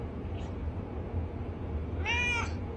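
A house cat gives a short, fairly close meow near the end, after a faint earlier call, over a low rumbling background with no talking.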